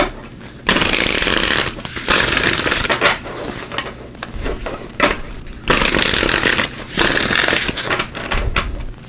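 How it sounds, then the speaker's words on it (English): A 'You Are Awesome' oracle card deck is shuffled up close in loud, papery bursts, several rounds of riffling separated by short pauses, with no talking. "Just give these a shuffle."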